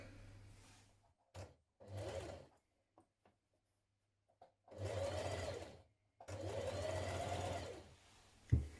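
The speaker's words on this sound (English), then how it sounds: "we're going to stitch around it" Sewing machine stitching around a folded fabric edge, running in several bursts of whirring stitches separated by pauses and short clicks, close and clear with no talking.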